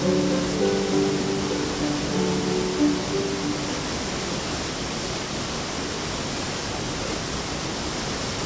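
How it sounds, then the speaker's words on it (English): Big waterfalls in Coed y Brenin forest, Wales, a steady broadband roar of rushing water, loud and continuous, with faint tonal sounds early on. "The waterfalls are quite big and well worth a visit."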